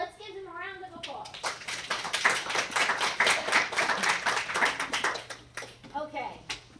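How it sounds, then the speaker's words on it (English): A classroom of students claps for classmates who presented, a short round of scattered, uneven hand claps with voices talking and a child's speech before and after the clapping. "So let's give them a round of applause."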